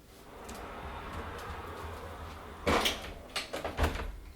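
A heavy sliding wardrobe door with glass panels and frosted film rolls along its track, a dull rumble rising into a few louder knocks and thuds near the end, close by in a quiet room.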